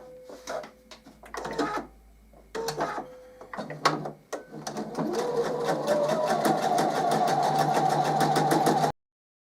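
A sewing machine stitches a quarter-inch seam along a drawn diagonal line for a maple leaf quilt block, starting with a few short bursts of whirring and then running in a steady, fast, even rhythm close by until it stops.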